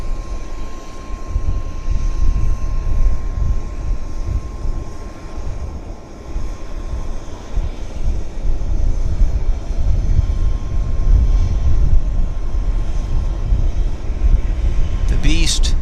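A Lufthansa airliner at Vancouver Airport gives a loud, rumbling engine roar that swells and holds steady for about sixteen seconds, with voices talking over it.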